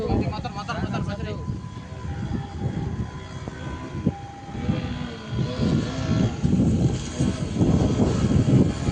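A light aircraft approaches and comes in to land at an airfield after rain, its engine droning and swelling in the background while people talk over it.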